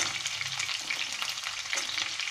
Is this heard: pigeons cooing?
no